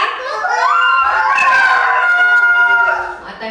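A rooster crows in the morning, one long rising and falling cock-a-doodle-doo that sounds loud and close and lasts about three seconds, with no talk over it.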